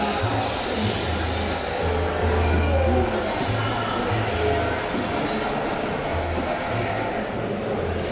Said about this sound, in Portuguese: Olha como esse trem na Tailândia